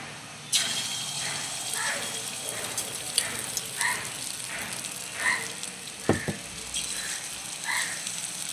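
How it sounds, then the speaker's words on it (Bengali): Small omelette pieces of egg fry in oil in a pan, a soft continuous sizzle punctuated by brief louder spits and flare-ups, plus a sharp utensil clatter partway through. "ছোটো ছোটো করে অমলেটের মতো ভেজে নেব সবগুলোকে।"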